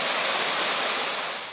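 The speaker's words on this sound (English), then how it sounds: "we find the famous river Dhochi" The river Dhochi near Ishiara in Embu County, Kenya, rushes and flows as a steady, broad wash of water noise, continuous and fairly loud, with no voices.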